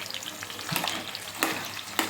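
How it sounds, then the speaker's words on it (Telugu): Brinjals frying in hot oil in a pan give a steady, close sizzle and crackle, broken by a few sharper pops and spatters. "ఈ వంకాయలన్నింటినీ అందులో వేసేసి కొంచెం సేపు మూత పెట్టుకొని ఈ వంకాయని బాగా మగ్గనివ్వాలి ఆయిల్లో."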